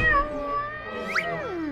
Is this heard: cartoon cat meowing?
yes